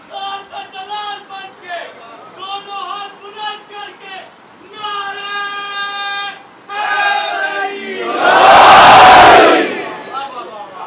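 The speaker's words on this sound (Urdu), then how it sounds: "اس نعرے کی آواز اس تک نہیں جاتی" At a Muharram gathering, a large crowd chants a religious slogan in repeated tonal phrases, then erupts into a loud, sustained roar that fades away.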